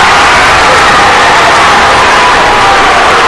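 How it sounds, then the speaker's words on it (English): Loud, dense roar of a girls' high school basketball crowd cheering after a made basket and foul, a continuous wash of noise throughout. "Hess puts up a 2-pointer, and it's good! She gets the and one, and the crowd goes wild"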